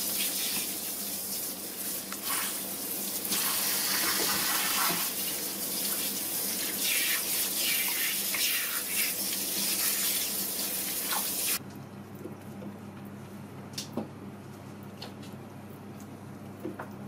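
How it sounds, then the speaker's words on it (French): Cold water gushes steadily from a tap over salt-cured duck pieces in a sink, a loud close rush for about eleven seconds, then a quieter tail with a few small clinks. "on va bien les rincer à l'eau froide, bien sûr"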